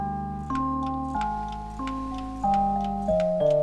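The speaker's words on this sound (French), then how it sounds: "juste par le son, juste par le tic-tac, je le sais si ça va bien aller ou pas." Pendulum clock at a clockmaker's, with a tick-tock heard alone and up close as a series of distinct, evenly spaced ticks, each carrying a ringing metallic resonance.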